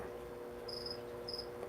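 Crickets chirp in two short, high, buzzy trills separated by a brief pause, faint and close over a quiet low background hum.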